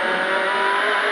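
Rally car on a special stage, engine screaming at full throttle from inside the cockpit, a loud sustained high-pitched whine with no letup and no talk over it.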